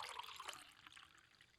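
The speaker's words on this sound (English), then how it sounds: "Oh, that's good pour." A liquid pours in a thin trickling stream, a short continuous splash and dribble that stays fairly soft and close, tapering slightly toward the end with no voices.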